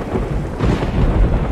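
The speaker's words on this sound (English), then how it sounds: "the lightning in this game is like genuinely terrifying" Thunder from lightning in the Minecraft video game, a loud, dense rumbling roll with rain-like hiss, swelling midway and sustained throughout with no talk.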